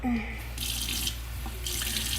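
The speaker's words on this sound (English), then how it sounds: "it says to add 3 tablespoons of agua, some water" Water runs from a kitchen tap in a steady close hiss, starting and stopping in two short bursts while measuring water for a PEEPS marshmallow fondant.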